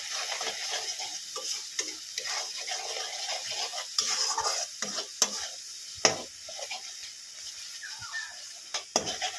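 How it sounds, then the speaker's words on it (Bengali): Turmeric, Kashmiri chili powder and salt being sautéed in a pan for a vegetarian cauliflower and potato curry, giving a steady sizzle with scraping spatula strokes and occasional sharp clinks against the pan, fairly close and without speech. "ভালো করে এবারে এটাকে কষিয়ে নেব একটু"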